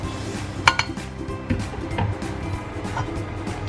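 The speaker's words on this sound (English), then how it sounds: "We'll just put some oil into the pan." A metal pan clanks on the stove as oil goes in for frying shallots, with one sharp close knock, a few softer clinks and light scraping afterward over a low kitchen background.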